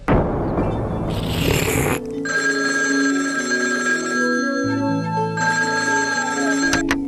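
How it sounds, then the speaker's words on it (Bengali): A telephone rings on an outgoing call, with a steady electronic ring tone that follows a short burst of noise and continues without pause through the rest, loud and close. "আমি এক্ষুনি বড় বাবুকে ফোন করছি"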